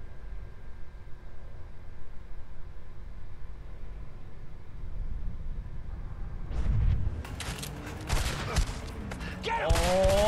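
Enemy gunfire in the video game A Way Out opens after a stretch of low background rumble, with several sharp shot bursts and impacts building toward the end.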